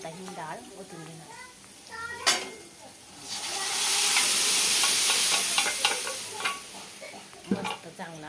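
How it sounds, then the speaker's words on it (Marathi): Cooked dal poured into a hot pan for sambar, a rising hiss and sizzle that swells and holds for a few seconds amid utensil clinks, with people talking nearby. "आता ही डाळ ओतून घेणार."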